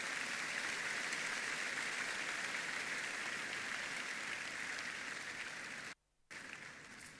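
A church congregation applauds and cheers for the Lord in a steady, loud wash of clapping that fills the room, then briefly cuts out before resuming.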